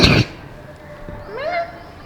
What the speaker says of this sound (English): We keep hearing this sound like birds are talking back at each other.